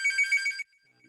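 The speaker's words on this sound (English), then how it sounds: "that's my phone ringing" A telephone rings in a presentation setting on library policy, giving a loud, rapid electronic trill for about half a second before cutting off, followed by near silence.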